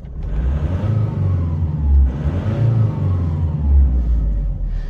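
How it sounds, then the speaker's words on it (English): A 2006 Nissan Navara 2.5 dCi diesel 4x4 crew-cab pickup revving: a close, loud low rumble that swells twice in short blips over a steady idle, with no talk. "If I give the engine a little rev,"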